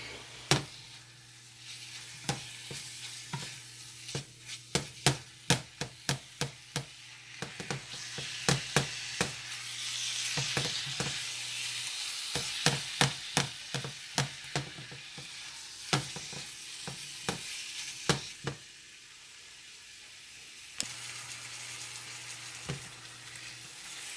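Jamaican beef patty filling sizzles steadily in a pan, with a continuous frying hiss broken by many sharp clicks and scrapes from stirring, close and fairly loud throughout.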